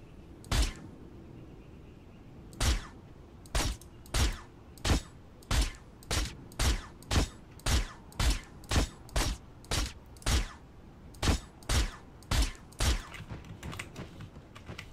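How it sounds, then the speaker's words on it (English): A VSS sniper rifle in the Creative Destruction video game fires about twenty sharp, evenly spaced shots over roughly twelve seconds, a few at first and then a steady fast run, with no voices. "That's a crazy sounding gun"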